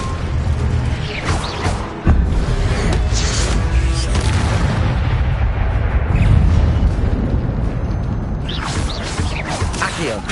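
Incendio fire spell cast in Hogwarts Legacy, loud whooshing flame bursts and deep booms layered over constant battle noise, with a sharp hit near two seconds and a fresh surge of crackle toward the end.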